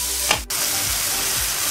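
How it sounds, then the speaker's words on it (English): Asparagus sizzles steadily in a pan over a high flame, a close, constant frying hiss with a brief stirring scrape near the start. "we have been cooking our asparagus on a high flame"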